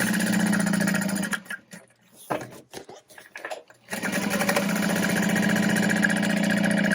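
Sewing machine stitching dividing lines through the lining of a backpack-style tote bag, running steadily and loud for about a second, pausing with a few stuttering bursts, then running continuously again to the end.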